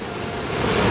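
The Sardu river in flood with muddy brown water, a dense continuous roar of rushing water, broad and steady with no breaks.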